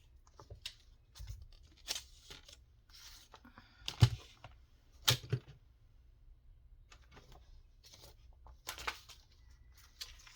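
Paper being cut to size for a handmade ephemera journal pocket, heard as quiet, scattered snips and rustles with brief pauses between them, near and fairly faint.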